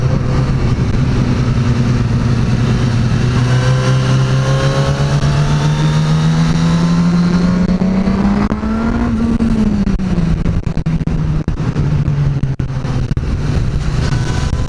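A Suzuki GSX-S 1000 motorcycle's engine drones steadily while being ridden. It is loud and close, with the pitch rising slowly as it accelerates, peaking briefly and easing back, mixed with constant wind rush.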